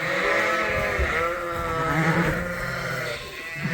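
Dorset sheep being moved to new ground on a farm in winter snow, a flock bleating loudly and continuously with overlapping calls close by.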